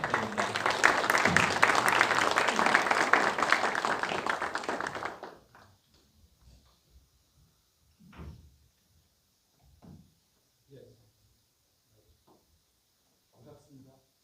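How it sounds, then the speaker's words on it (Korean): A regional civic gathering at a chamber of commerce breaks into a burst of audience applause lasting about five seconds, then it cuts off to near quiet with a few faint knocks and shuffles. "여러분 큰 박수 부탁드립니다."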